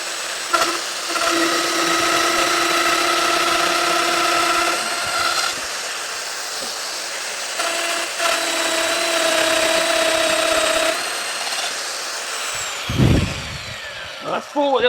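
A Festool Domino EQ 700 joiner cuts four small mortises into a wooden bread board end, its high motor whine running in two long bursts with a short pause between, a brief thump and rustle after the second run.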